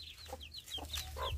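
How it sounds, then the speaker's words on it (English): Village chickens cluck softly and repeatedly in short, chirpy bursts, faint and close, over low wind noise, with no talking. "You can hear also my chicken"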